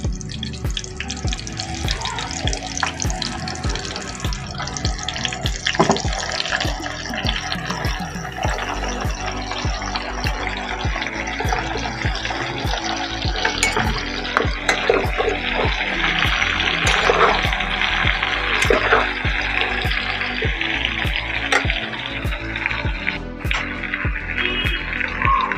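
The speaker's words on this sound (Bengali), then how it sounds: "এই তেলের মধ্যে ভাপানো এঁচোড় আর আলুগুলোকে দিয়ে দেবো, দিয়ে সব ভেজে নিতে হবে" Steamed jackfruit and potatoes dropped into hot oil to fry, a loud, continuous broadband hiss and crackle held steadily close up with scattered sharper pops, no talking.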